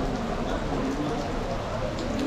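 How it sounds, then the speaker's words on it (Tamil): Heavy rain pours down in a steady, dense hiss that holds at an even level throughout, with no individual drops standing out. "கும்முன்னு ஒரு குளியலை போட வேண்டியதான் கொட்டுற மழையில்"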